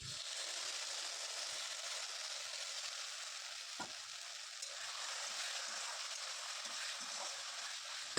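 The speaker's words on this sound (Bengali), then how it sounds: "আর এদিকে পেঁয়াজ কুচি, লঙ্কা কুচি দিয়ে একটু ভালোভাবে ভেজে নিলাম" Chopped onion and chili frying with ginger garlic paste in a pan, a steady soft sizzle running throughout at low level, with a couple of faint utensil taps.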